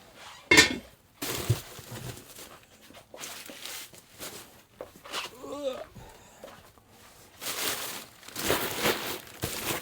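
Le Creuset cookware being unboxed, with its lid lifted and handled: clunks, packaging crinkles and rustling in bursts, close by, with a person talking between the handling sounds.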